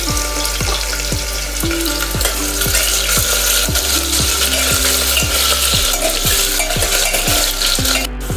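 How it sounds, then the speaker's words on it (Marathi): Pricked potatoes fry in oil over a medium gas flame for dum aloo, giving a steady close sizzle with regular clicking ticks throughout and no talking. "आता हे टोचून घेतलेले बटाटे आपल्याला यामध्ये टाकायचे आहेत आणि याला छान सोनेरी रंग येईपर्यंत आपल्याला छान परतून घ्यायचे आहेत"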